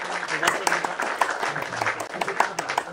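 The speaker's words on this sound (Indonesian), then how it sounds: "Saya tepuk tangan dulu buat kamu" A person claps hands in a quick, steady rhythm of sharp slaps during an online question-and-answer session, with a voice speaking over and around the claps.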